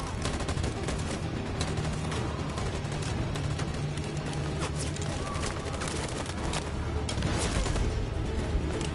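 A volley of gunfire fired on command in Detroit: Become Human, a dense continuous crackle of shots at steady loudness under the game's background noise, with a voice faintly present.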